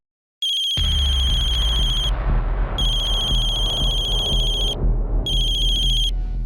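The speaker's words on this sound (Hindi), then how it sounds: "तुम्हें जब भी इसका फोन आता है तुम फोन काट देते हो।" A mobile phone ringtone rings loud and close in three bursts of bright electronic tone, sounding over a continuous background of low music or rumble.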